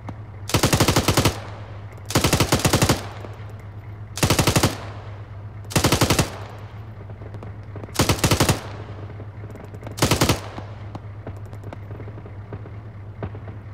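Bursts of automatic gunfire in the military shooter Arma 3, six sharp loud volleys spaced about two seconds apart over a low constant hum.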